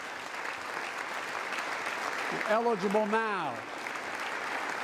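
Audience applause fills a joint session of Congress during a presidential address, a steady broad wash of clapping heard throughout while someone speaks over it briefly.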